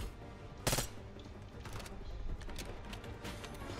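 A gun fires bullets during the Black Ops 6 campaign: one sharp shot rings out first, then several more scattered bursts follow over steady background game noise.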